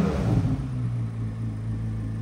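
A 2023 Corvette Z06 3LZ convertible with a 670 hp engine rumbles loudly and steadily for a couple of seconds, heard up close with no talking.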